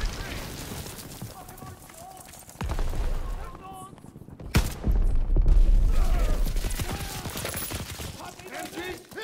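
Machine gun fire sweeps a beach in Call of Duty WWII, a dense war scene with bursts and heavy booms swelling mid-way, mixed under shouted voices.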